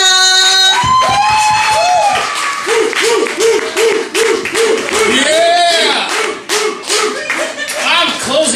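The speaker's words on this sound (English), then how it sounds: "give this next man a big round of applause" A comedy-night audience at an Irish pub claps and cheers loudly for a comedian, with whoops and shouting voices mixed into the dense, sustained applause.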